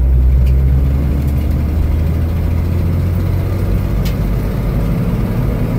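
A 1979 Ford Bronco's engine runs loud and steady while driving, a constant low drone with smooth, even tone close by and no talking.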